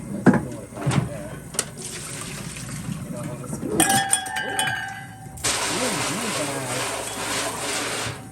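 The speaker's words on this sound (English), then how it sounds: "So I'm going to just put some warm water back in here." Warm water running from a tap into an old pan over a sink, a steady splashing rush in the latter part, preceded by clinks and knocks of handling the pan while a person talks.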